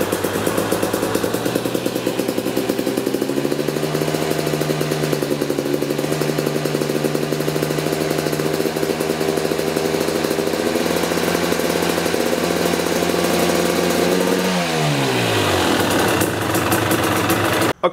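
KTM or Husqvarna TPI two-stroke motorcycle engine, loud and close, idling steadily and then revving up with a rising pitch before dropping back, heard alone.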